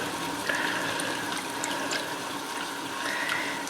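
Chicken broth poured from a half-cup measuring cup into a cooking pot for chicken and dumplings, a steady close liquid stream running for several seconds with no talking.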